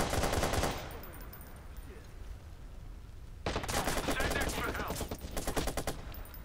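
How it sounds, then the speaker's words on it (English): Assault rifle fire in the Watch Dogs video game: sustained rapid automatic bursts, loud and dense, with a pause in the middle before another long burst resumes. "We need the assault rifle."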